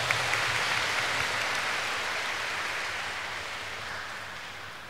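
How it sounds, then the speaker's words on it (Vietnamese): A church congregation breaks into sustained applause at a priest's installation ceremony as new pastor, a dense, steady wash of clapping that stays full and even before tapering slightly. "Xin cộng đoàn chúc mừng bằng một tràng pháo tay."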